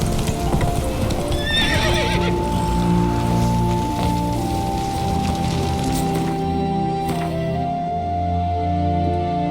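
Roach, a horse in The Witcher 3, gallops in a steady, loud stream of clip-clopping hoofbeats, joined early by a brief whinny, with a faint patter like rain underneath.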